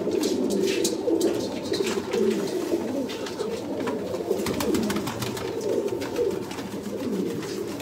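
Sialkoti pigeons coo in a steady low murmuring chorus, several birds overlapping continuously and close by, with faint clicks and rustles mixed in.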